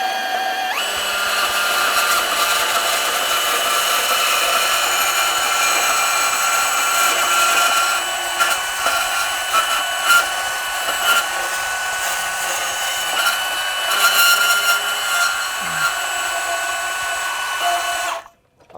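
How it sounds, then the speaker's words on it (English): A bandsaw runs with a steady high whine while cutting, its pitch wavering slightly as the blade works, close and continuous for most of the stretch before the motor cuts off near the end. "Bandsaw leans back at 45-degree angle."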